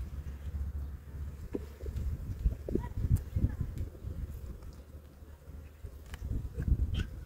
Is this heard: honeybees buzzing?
yes